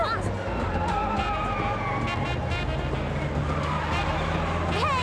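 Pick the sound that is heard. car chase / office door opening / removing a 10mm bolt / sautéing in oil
car chase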